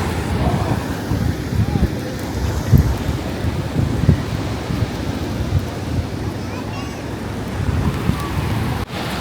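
Sea waves wash onto Malvan beach in a continuous broad rush of surf mixed with wind noise on the microphone, steady and fairly loud without a break.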